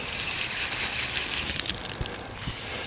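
Water from a running tap or hose rinses a fishing reel during spring cleaning, a steady close hiss of spray with slight splashing variations, no voices.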